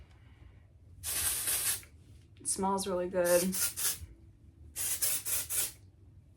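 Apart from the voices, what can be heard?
spraying Milbon dry texture spray on hair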